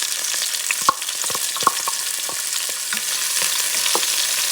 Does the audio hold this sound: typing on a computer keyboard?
no